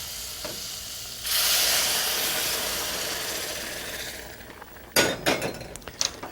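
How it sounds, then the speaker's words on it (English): Boiling water pours in a steady rushing hiss into a hot pot of rice with salt and peas, sizzling for several seconds, followed by a few clinks and scrapes of a utensil. "and finally your boiling water"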